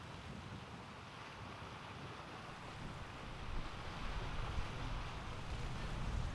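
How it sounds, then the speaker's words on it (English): Ocean waves at Savoonga, Alaska wash in a continuous low roar, faint and distant, swelling slightly toward the end with wind noise mixed in. "I hear the waves"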